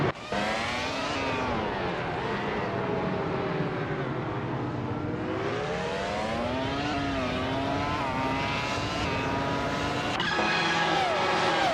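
A Ferrari 248 F1 race car in a racing video game, its high-pitched engine whine rising and falling through gear changes and throttle sweeps, loud and continuous, with a brief tire squeal near the end.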